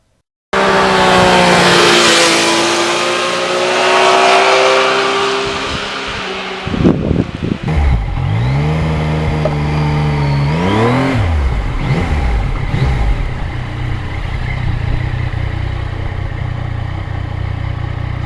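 A 2020 Yamaha MT-09 motorcycle engine roars under heavy wind rush, then revs rise and fall through gear changes as the bike rides on, loud and close.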